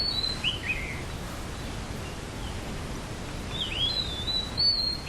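Birds sing outdoors in a few faint, short chirps and whistles at the start and near the end, far off and set against a steady hiss of background noise.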